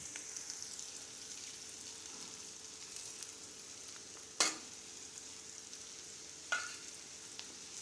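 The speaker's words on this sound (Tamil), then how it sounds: "நம்ம இப்போ எண்ணெயிலே எடுத்து வச்சுருக்க மிளகாத்தூள், கறி மசாலாத்தூள், உப்பெல்லாம் போட்டுக்கலாம்." Chili powder, curry masala powder and salt frying in hot oil for a Tamil bottle gourd stir-fry, giving a steady soft sizzle with a couple of brief sharp clatters from stirring.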